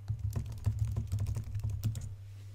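Someone types on a computer keyboard in a quiet room, a quick irregular run of light key clicks lasting a couple of seconds over a low steady hum, with no voices.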